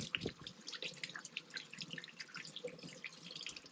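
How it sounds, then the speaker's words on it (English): Water runs and drips while loose dirt is rinsed off an old dug bottle. Soft splashes and patters come in irregular bursts, close and quiet, with no one speaking. "First, I'm going to rinse off the loose dirt."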